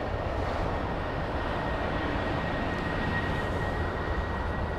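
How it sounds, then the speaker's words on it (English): An Air China Boeing 747-8i jumbo jet departs, giving a steady, loud broadband engine roar that holds even throughout, with a faint high tone running beneath it. "Super stretched jumbo jet."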